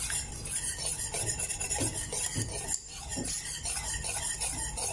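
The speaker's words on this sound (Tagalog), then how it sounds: "i-mix lang natin siya ng i-mix" A spoon stirs and scrapes through cream cheese topping for an orange cake in a bowl, a close, continuous rubbing and scraping with soft knocks against the bowl.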